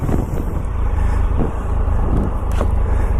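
A 2019 Triumph Tiger three-cylinder motorcycle engine runs under a steady, loud low rumble heavily mixed with wind buffeting, with no clear change in pace across the few seconds.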